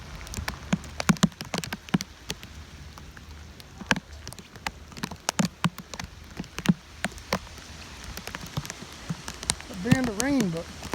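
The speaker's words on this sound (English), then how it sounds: "Here we go, it's some good rain." Rain from Hurricane Eta patters steadily on surfaces, with scattered loud drips and taps standing out close by, and little wind, ending with a brief bird-like chirp.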